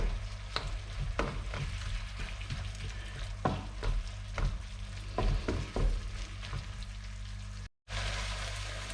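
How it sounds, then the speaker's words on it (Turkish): Ground beef cooking with hörnli pasta in a pan, a steady close frying sizzle broken by repeated sharp spoon scrapes and clicks as the mixture is stirred, with no talk. "bunu karıştırıyoruz ve böyle beraber pişiriyoruz"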